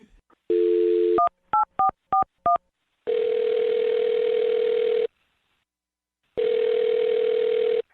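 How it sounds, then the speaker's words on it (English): A telephone dial tone sounds, then a quick run of touch-tone DTMF beeps as a number is dialed, followed by two long ringback tones separated by silence. "I'm going to dial her phone number"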